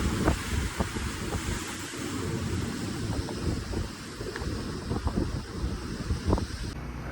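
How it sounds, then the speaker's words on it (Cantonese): Big ocean waves surge and wash along the shore at Qijin, Kaohsiung, with a constant rumbling roar and strong wind buffeting the microphone throughout. "哇！ 好大浪㗎！"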